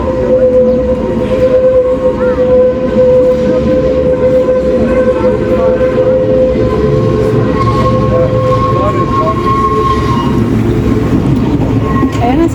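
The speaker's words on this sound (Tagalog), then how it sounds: "Ayan, papunta na yan ang train." A train arriving at a station on a spring day, heard as a steady loud rumble with sustained tonal squeals and a faint horn-like tone, plus a little background voice activity.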